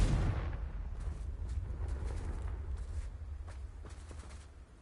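A Confringo blasting spell from the Hogwarts Legacy video game explodes in a loud, booming burst that then rumbles and crackles with a long fading roar. No speech is heard.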